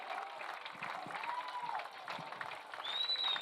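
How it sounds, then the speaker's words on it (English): A distant stadium crowd applauds youth football teams and their coaches at a Community Christian versus Washington game, a steady mid-level wash of clapping with faint cheers and a whistle-like tone near the end. "Let's give a big round of applause to all these teams and their coaches."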